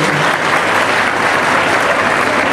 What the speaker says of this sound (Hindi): आप सबसे निवेदन है ताली बजाते रहिए